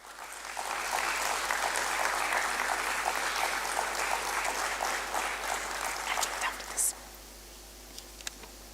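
Sustained audience applause fills a listing ceremony at the Bombay Stock Exchange, dense and steady for several seconds before cutting off abruptly, followed by a few isolated claps and near silence.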